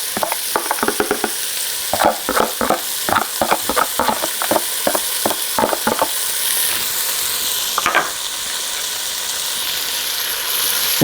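Diced onion sizzles in about three tablespoons of unsalted butter in a pan, a steady close frying hiss broken by a run of sharp scraping stirs in the first six seconds and another near eight, with no talking.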